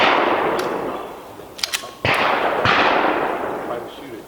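Pistol shots at a Steel Challenge action pistol match, several sharp cracks with metallic pings from steel targets, a quick cluster then a couple more, close and loud against open-air range ambience.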